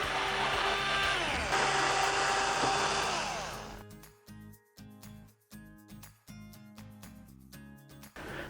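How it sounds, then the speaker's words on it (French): Power screwdriver removing screws from the back cover of a Thomson TV, a loud whirring drone at first, then a series of short buzzing bursts with pauses between them. "Et on peut y aller à la dévisseuse."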